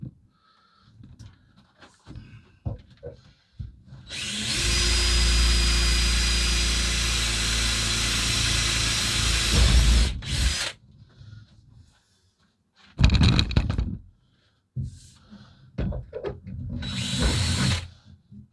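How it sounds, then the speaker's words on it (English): A power drill whines loudly for several seconds as it bores through a polycarbonate greenhouse window panel, followed by shorter drill bursts separated by quiet handling noises. "I'll get my drill bit and get some holes drilled."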